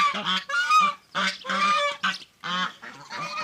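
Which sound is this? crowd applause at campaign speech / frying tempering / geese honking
geese honking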